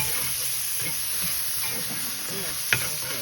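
Peppers sizzle steadily in a hot pan for blackened salmon, a constant close hiss of frying with light stirring and one brief sharp clatter near the end.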